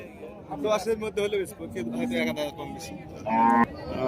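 A cow moos in long, drawn-out calls while people talk nearby at a busy outdoor cattle market.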